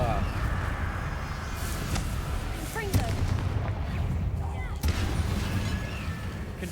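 Blasts of the Confringo spell in the video game Hogwarts Legacy, several loud booming impacts over rumbling combat noise, with a voice speaking between the explosions.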